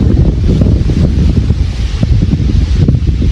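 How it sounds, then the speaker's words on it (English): Strong, cold wind buffets the microphone outdoors during a hunting trip, a loud, continuous roar with gusty surges and no voices. "it's windy and it's cold"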